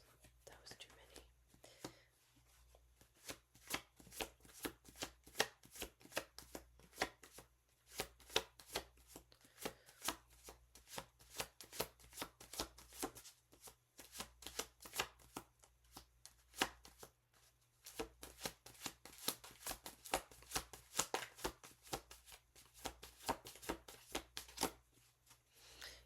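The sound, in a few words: shuffling tarot cards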